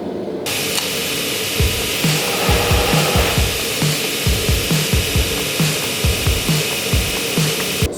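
A power tool grinds a forged tactical tomahawk, giving a steady loud hiss with a regular pulsing scrape, about two strokes per second, throughout.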